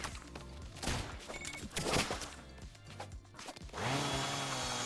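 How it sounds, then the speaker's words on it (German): A saw trap in the brawler game Gang Beasts whirs and grinds with choppy metallic bursts and clatter, ending in a steady buzzing drone. "diese Säge ist so gefährlich"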